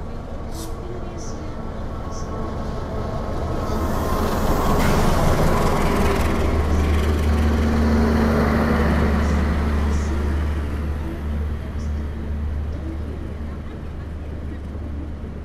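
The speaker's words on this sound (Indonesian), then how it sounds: "Yang baru saja masuk ini adalah rangkaian kereta api Argo Bromo Anggrek" Argo Bromo Anggrek passenger train arriving in Indonesia, a loud swelling rumble of rail cars rolling past, peaking mid-clip and fading slowly, with a steady low drone and faint voices underneath.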